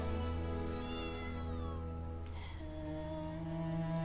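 A cat meows in a video game after being struck, loud tonal cries with rising and falling pitch over steady game music, a second shorter sound around the midpoint.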